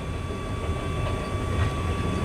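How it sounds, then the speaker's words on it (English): A long Conrail coal train rumbles past in a steady low roar with a faint continuous tonal whine, heard alone at moderate distance. "It's a very long coal train."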